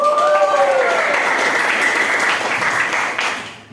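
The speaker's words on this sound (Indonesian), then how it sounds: "Beri aplaus dulu." Applause from a classroom audience after two student groups finish their presentation, a steady crowd clatter lasting a few seconds and fading at the end, with a brief voice at the start.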